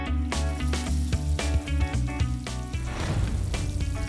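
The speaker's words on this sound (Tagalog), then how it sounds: "Dito sa Angono, piniprito ng buo ang katawan ng itik." A whole duck body deep-frying in hot oil in Angono, a loud steady sizzle and crackle running throughout, with background music playing over the bubbling.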